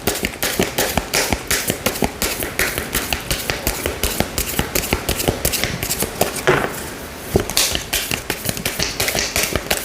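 Tarot cards being shuffled by hand, a rapid run of crisp, close riffling snaps and taps in a steady rhythm, with a brief pause partway before the shuffling picks up again, and no talking.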